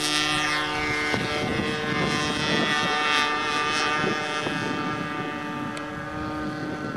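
Two propeller planes, a Funtana and a Mustang, fly overhead with a steady, droning engine and propeller roar that stays fairly constant and moderately distant throughout.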